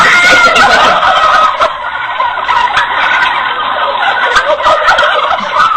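Domestic turkeys gobbling in a flock, with several loud, close, rapid warbling calls that overlap and repeat.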